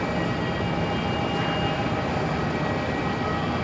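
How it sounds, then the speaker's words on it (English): An Air New Zealand Boeing 777 lines up on a runway at Melbourne Airport, producing a steady, broadband jet engine roar heard from a distance, continuous and even, with no talk over it. "New Zealand just being told to line up on runway 34 now, the 777."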